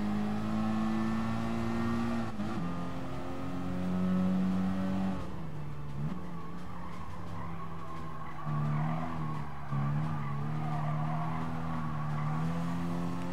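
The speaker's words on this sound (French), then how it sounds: "La voiture fait un peu un son d'ordinateur, hein. Le passage de vitesse" Simulated car engine from Gran Turismo Sport, a steady synthetic hum that rises in pitch and drops sharply at gear shifts, with a tire skid partway through, loud and continuous with no talking.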